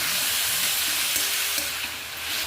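Ash gourd and green chilies frying in hot oil with nigella seeds, turmeric, salt and sugar, giving a steady close sizzle with soft stirring scrapes in the pan.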